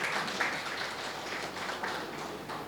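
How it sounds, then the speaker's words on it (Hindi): An audience applauds child performers at an evening peace-themed event, with a moderate, continuous patter of clapping that sounds fairly even and slightly distant for under three seconds. "तो ज़ोरदार तालियां आप लोग इनके लिए बजा सकते हैं।"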